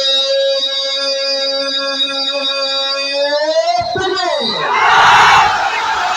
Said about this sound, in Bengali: সিঙ্গেল ভাইরা মেক নয়েজ, তোমরা আমার সাথে তাকবীর দিবা